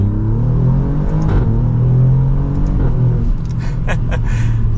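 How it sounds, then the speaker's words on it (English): A 2024 Alfa Romeo Giulia Quadrifoglio pulls away, its engine droning low and steady from inside the cabin, then climbing through a short rising rev with faint high whine near the end, continuous and fairly loud. "setting off in the Alfa"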